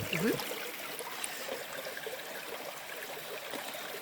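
A lively Appalachian creek runs over rocks beside a trail, giving a soft, steady, distant wash with no one talking over it.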